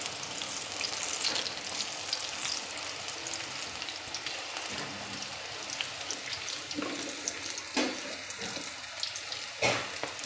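Patti bhajiya, chilli fritters in gram-flour batter, frying in hot oil with a steady broad sizzle and crackle throughout, plus a few sharper clinks near the end.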